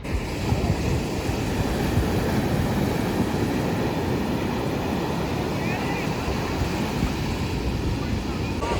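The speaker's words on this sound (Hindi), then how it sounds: "अभी हम लोग समुद्र के बिल्कुल बहुत नज़दीक है" Sea waves near the shore, heard as a continuous, loud wash of surf mixed with a low rumble of a moving vehicle, with no pause throughout.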